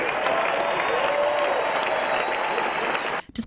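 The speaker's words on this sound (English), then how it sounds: "How about a great round of applause for these two great champions?" Loud, dense applause from a tennis crowd at the BNP Paribas Open honoring two champions, a continuous roar of clapping that cuts off abruptly near the end.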